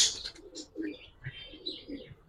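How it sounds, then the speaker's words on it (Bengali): Several old-breed pigeons give soft, throaty coos alongside short chirps and a faint flutter of wings, close by and fairly quiet. "দেখেন কবুতর পুরান জাতের।"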